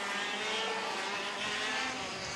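KZ2 racing karts on a circuit during a pre-final, their high-revving engines making a continuous buzzing drone that holds steady and fairly loud throughout, with no voices.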